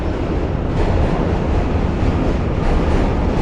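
A D train rumbles loudly and continuously nearby as it crosses the Manhattan Bridge in New York, a heavy broadband roar with faint rhythmic rattling and no voices.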